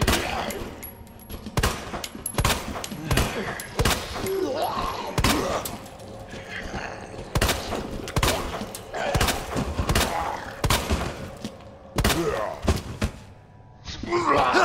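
Rapid gunfire bursts rattle loudly and close in the video game Resident Evil 2, with dense volleys, thuds and grunts running almost nonstop and a brief lull near the end.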